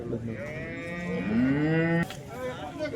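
A cow at the Modnimb cattle market lets out one long, loud moo close by, lasting about two seconds, followed by quieter market background.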